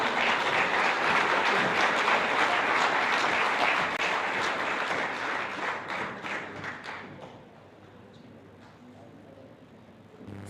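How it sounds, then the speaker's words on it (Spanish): A congregation at a church Bible seminary claps loudly and steadily for a music group for several seconds, then the clapping thins out and fades to a quiet murmur near the end. "Recibámosles con fuertes aplausos."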